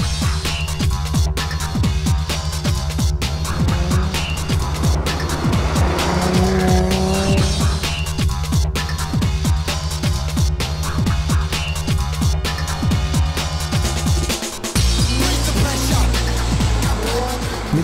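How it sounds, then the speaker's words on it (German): A 2013 Jaguar F-Type S with a 3-litre six-cylinder engine roars loudly and continuously, its revs rising and falling with tire squeal and a sharp gear change near the end. "Der ohrenbetäubende Klang seiner 6-Zylinder-Maschine lässt Autofanherzen deutlich schneller schlagen"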